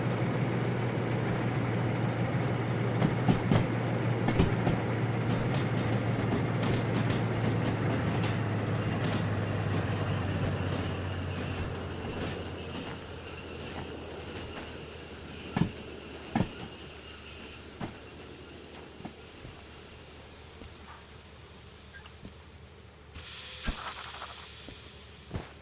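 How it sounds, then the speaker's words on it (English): Train brakes squeal with a long, steady high-pitched tone during shunting in a town and factory yard, sustained over rumbling wagons, with scattered clanks and knocks as the rumble fades. "Oh yeah, train brake."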